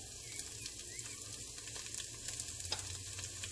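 Kashmiri red chili hitting hot oil in a pan for a dumpling curry, giving a steady, close sizzle with light crackle throughout and no voices.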